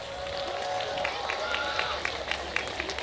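A festival crowd applauds the final youth dance team at an outdoor spring flower festival, with steady clapping and scattered sharper claps rising over a busy background.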